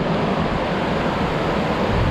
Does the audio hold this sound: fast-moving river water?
yes